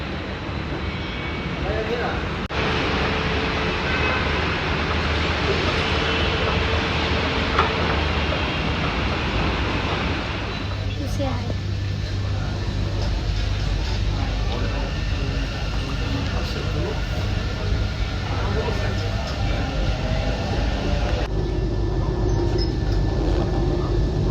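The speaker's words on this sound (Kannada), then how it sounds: "ಫಸ್ಟ್ ಟೈಮ್ ಮೆಟ್ರೋದಲ್ಲಿ ಹೋಗ್ತಾ ಇರೋದು." Steady rumbling and whirring inside a moving metro train, a continuous low drone with occasional clatter, while people speak quietly nearby.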